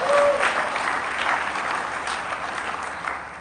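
A conference audience at a homelessness-alliance opening plenary claps together in full, dense applause that starts at its loudest and slowly thins and fades toward the end.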